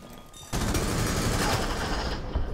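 Rapid gunfire erupts in a Rainbow Six Siege ranked match: a dense, loud burst of shots begins abruptly after a quiet half second and continues to the end.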